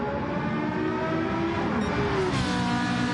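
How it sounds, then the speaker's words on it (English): Ferrari GT3 race car at Sardegna reverse circuit in Gran Turismo 7 online racing, a loud sustained engine scream with rising and shifting harmonic tones as it blasts past near a trackside microphone, continuous throughout with no talk. "screaming past the trackside microphone, and again in the beautiful sounding Ferrari for Team Special K"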